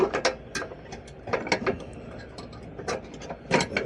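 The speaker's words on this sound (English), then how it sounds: "Spring gets attached to the brake lever." During final assembly of a refurbished mower deck, a spring is hooked onto the mower's brake lever, producing a quiet series of scattered metallic clicks and small rattles.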